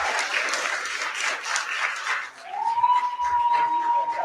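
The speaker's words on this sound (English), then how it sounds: "I'll give all of them a round of applause" An audience at a youth entrepreneurial program final pitch event claps in a burst of applause that thins out midway, after which a steady electronic tone rises and holds beneath the remaining clapping.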